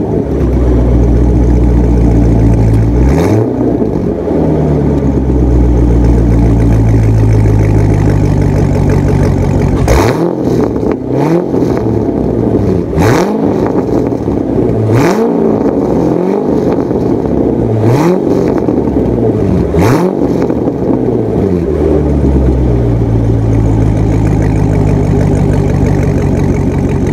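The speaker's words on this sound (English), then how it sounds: "now I'm driving this Corvette and I mean it just feels so good" Loud 2015 Chevrolet Corvette C7 Z51 engine idling with a deep rumble, punctuated by several sharp revs that rise and fall back, repeated throughout.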